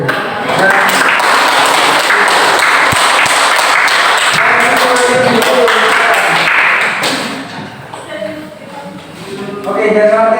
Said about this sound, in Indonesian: Tepuk tangan untuk kalian dulu.